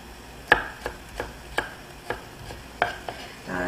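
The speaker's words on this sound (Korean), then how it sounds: "당근은 껍질 벗겨서 편을 먼저 썰고, 그리고 채를 썰게요" A knife cuts a peeled carrot into slices and then julienne strips during a Japanese cooking practical exam. About eight crisp, sharp chops fall at an uneven, unhurried pace on a cutting board, with no voices.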